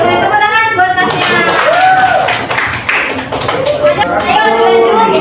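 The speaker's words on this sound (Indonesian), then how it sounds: "tepuk tangan buat Masnya" A class of pupils clapping hands during a teaching-practice lesson, a run of quick taps and claps under loud talking and children's voices.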